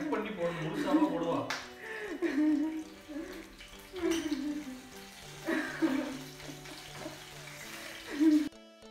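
Two green chillies sauté in leftover oil over a medium flame for a South Indian mint chutney, giving a steady crackling sizzle with sputtering bursts as a person talks over the pan.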